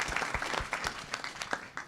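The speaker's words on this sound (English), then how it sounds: "Round of applause, everyone." Audience applause for the finalists of a university pitch competition: a burst of crisp, overlapping claps from a room of people, moderately loud and continuous across the short stretch.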